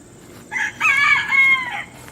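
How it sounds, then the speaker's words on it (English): A rooster crows once, a loud, drawn-out cock-a-doodle-doo that carries clearly over a quiet outdoor food forest garden in Connecticut with no talking. "There's the chickens."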